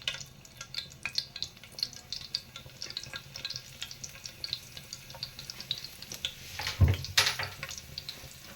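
Hot oil crackles and sizzles steadily in a pan as garlic is tempered, with a sharp clatter of utensils and a louder burst of spitting near the end.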